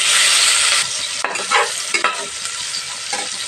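Ingredients for ghee rice sautéing in a pan: a steady, close hiss of frying with scraping stirring strokes breaking through in several bursts, no voices.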